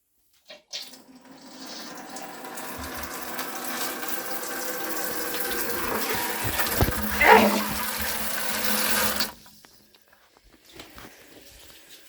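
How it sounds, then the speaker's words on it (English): Water gushes from a tap in a steady rushing stream for several seconds, close by, then cuts off, leaving a quiet bathroom. "as you can hear and see, the water is back on"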